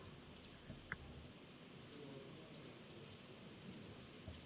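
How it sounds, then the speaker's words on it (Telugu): Rain and rumbling thunder in the mobile battle royale game BGMI, a steady faint wash of rainfall with a soft low roll of thunder throughout and no voices. "अरे क्या बारिश गिर रही है भाई."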